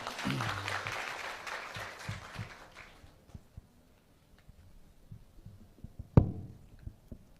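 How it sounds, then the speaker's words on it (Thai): Brief applause from an audience at a Thai public question-and-answer session about the Thai-Cambodian border, dense clapping for about three seconds that fades to near silence, followed by scattered small noises and one sharp knock. "ครับปรบมือเพื่อนนะครับ"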